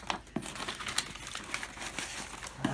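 Yellow packing paper crinkles and rustles up close in a string of irregular crisp bursts, with no talking.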